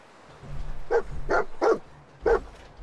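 Four short barks from a dog in the video game Fallout 4, spaced about a third of a second apart with a pause before the last, close and moderately loud over a low game hum.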